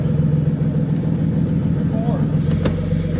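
N54-swapped BMW F80 M3 engine under way, a loud, continuous droning hum held throughout as someone speaks over it.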